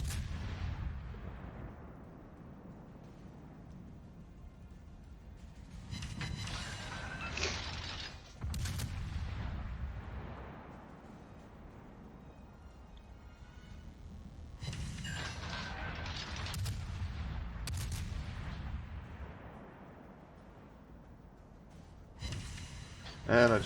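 Heavy warship naval gunfire in the video game World of Warships, repeated booming salvos with long rumbling tails at intervals over a quiet low hum, fairly distant and subdued.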